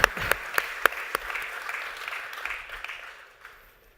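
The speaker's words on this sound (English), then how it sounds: "Give them a round of applause." Conference audience applauding panel speakers on engineering education: a few sharp, distinct claps open, then blend into a steady round of applause that gradually thins and fades out.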